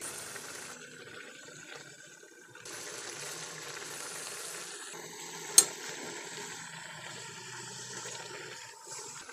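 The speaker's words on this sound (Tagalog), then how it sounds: "Ayan, kumukulo na siya." A pot of chop suey soup simmers and bubbles steadily, a continuous watery hiss with one sharp clink partway through.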